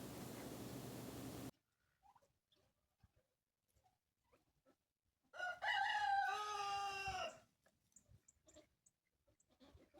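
A rooster crows loudly and close in a backyard chicken yard, one long harsh cock-a-doodle-doo after a burst of noise and a near-silent pause, with scattered faint clucks and small knocks around it.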